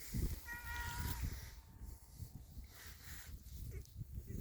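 A cat growls low and steadily, with a brief whiny meow-like cry at the start. It is faint and close, with no talking.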